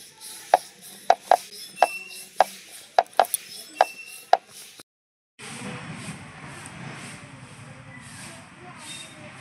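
Naan dough rolled out with a rolling pin in a home kitchen, a regular series of sharp wooden knocks at close range followed by a brief silence and then a soft steady rubbing hiss.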